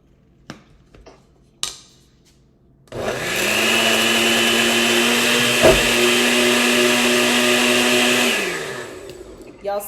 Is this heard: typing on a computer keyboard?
no